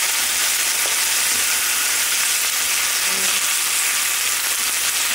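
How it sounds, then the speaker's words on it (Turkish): Potatoes stirred while frying in a pan for a vegan dish: a steady, loud, close sizzle runs throughout, with faint scrapes and shifting under the hiss and no voices. "patateslerimi şöyle bir karıştırıyorum"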